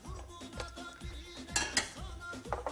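A container for mixing oils is handled, making a quick series of light clinks and rattles like a spoon or lid on metal or glass, with no talk.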